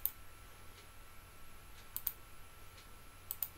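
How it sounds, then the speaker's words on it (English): Computer mouse clicks, a sharp click at the start and then quick pairs of clicks, close and crisp against a quiet background hum. "I'll click on that."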